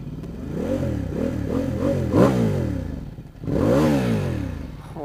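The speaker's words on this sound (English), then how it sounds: "So this is a bone stock exhaust." A 2019 Ducati XDiavel S with a bone stock exhaust revs repeatedly while stationary, several quick throttle blips rising and falling, then one longer sweeping rev, loud and close.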